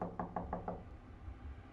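Five quick, evenly spaced knocks land on a door in a horror video game, hollow and fairly close, followed by quiet room tone with no speech.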